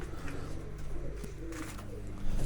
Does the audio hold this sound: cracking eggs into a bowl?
no